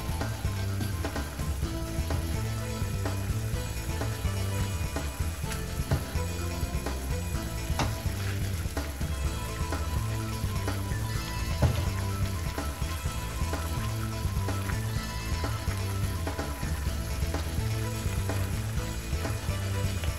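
Oyakodon, a Japanese chicken and egg rice bowl, sizzles steadily in a pan while being stirred, the frying continuous and fairly loud beneath rhythmic background music.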